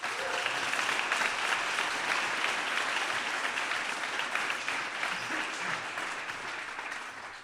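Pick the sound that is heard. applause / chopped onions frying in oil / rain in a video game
applause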